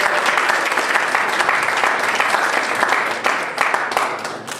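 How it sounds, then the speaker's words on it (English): An audience breaks into dense, sustained applause for an event team, a loud continuous wash of many hands clapping that tapers slightly near the end. "So a big round of applause for the entire Vladiou"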